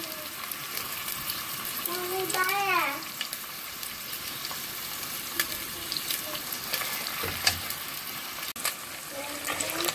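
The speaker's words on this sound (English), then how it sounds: "Fry all of them one after the other." Fried rice ingredients fry and get stirred in a pan, making a steady sizzle with scraping and clinks from the utensil, and a voice speaks briefly over it.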